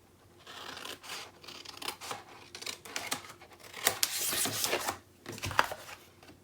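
Paper for a chipboard album base is trimmed with quiet cutting, scraping and rasping strokes in an irregular rhythm, faint and close with no talking.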